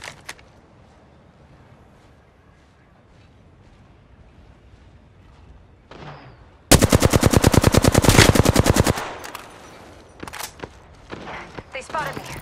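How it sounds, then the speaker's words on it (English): Gunfire in a battle royale video game: a loud, rapid automatic burst of about two seconds, followed by scattered single shots and softer game sounds. "They spotted me. I'm taking shots."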